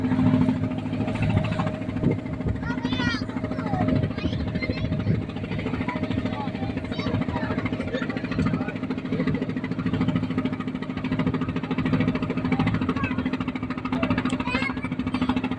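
A trawler's engine runs with a steady, heavy knocking throb on a river trip toward the Sundarbans via Mongla, loud and continuous throughout, with voices faintly under the engine noise.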